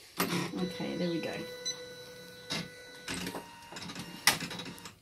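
A Janome Memory Craft 9700 embroidery machine warms up with a series of mechanical whirring and clicking bursts separated by short pauses, fairly close and moderately loud, with a voice speaking briefly.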